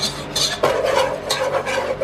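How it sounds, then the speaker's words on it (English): Spoon stirring flour into a paste in a pan over low heat, a steady scraping and rubbing rhythm of several close strokes against the metal, heard alone without talk. "put a tablespoon of flour in. Turn the heat right down, and then stir that in, and it will make a paste."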